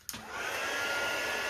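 A heat tool for melting embossing glaze in card making switches on with a small click and settles into a steady, close blowing whoosh that holds evenly to the end.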